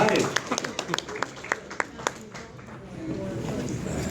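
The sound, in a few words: applause for Angela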